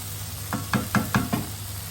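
Olives tipped into a hot frying pan: a quick run of five close clattering knocks over a steady, soft sizzle.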